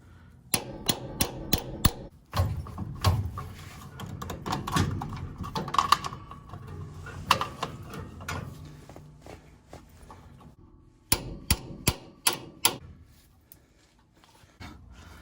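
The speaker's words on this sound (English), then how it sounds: "It's on a slide hammer here. It may work, it may not. This one just go right here on the edge of this and give it a few whacks." Slide hammer puller whacks against a Ford 9 inch axle in sharp metallic knocks, first a quick cluster, then scraping and rattling handling, then another rapid series of close hits.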